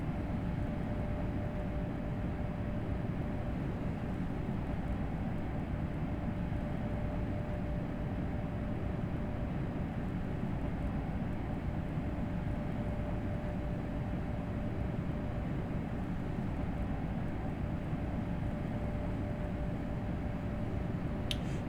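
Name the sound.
ICE 1 train running uphill at full throttle, Train Sim World 3 video game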